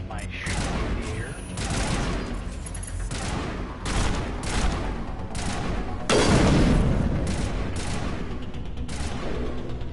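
Rapid gunfire crackles in Mass Effect Legendary Edition, with dense bursts of shots and heavier booms packed close together, loud and near throughout, with a voice speaking beneath the firing.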